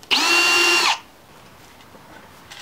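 A power screwdriver backs screws out of a powered subwoofer in one loud, steady whirring burst just under a second long, followed by quiet room noise.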